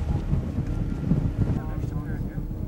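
Wind blustering across a hillside during a mule deer hunt in Alberta, buffeting the microphone with low, gusty rumbles; faint voices are mixed in.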